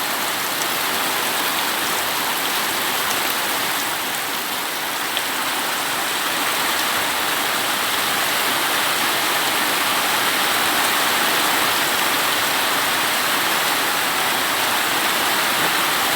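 Steady rain falling on a rural farm, a continuous dense hiss that holds evenly from start to finish, close and fairly loud, with no voices.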